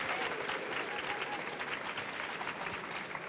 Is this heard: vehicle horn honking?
no